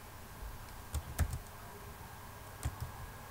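Keys tapped on a computer keyboard in a few short sparse clusters, close and quiet, with no talk.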